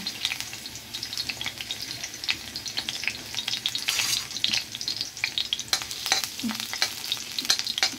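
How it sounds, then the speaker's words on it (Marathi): Garlic cloves frying in oil while a spoon stirs them, giving a continuous sizzle broken by frequent sharp scraping and clicking strokes against the pan, close and fairly busy throughout with no talking. "आता आपल्याला हे थोडं लसण तेलामध्ये टाकून घ्यायचं"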